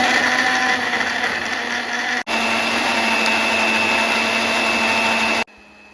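A blender runs loud and steady, puréeing onion, garlic, an egg and milk into a smooth paste, with one brief dip in the motor drone before it cuts off near the end.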